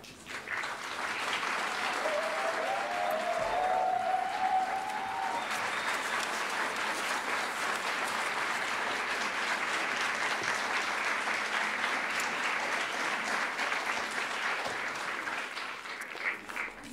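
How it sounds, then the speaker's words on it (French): A live event audience, having just removed their headphones, breaks into thunderous applause to welcome a guest; dense, steady clapping fills the whole stretch at an even level, with no talk over it. "Vous pouvez enlever vos casques pour l'accueillir dans un tonnerre d'applaudissements"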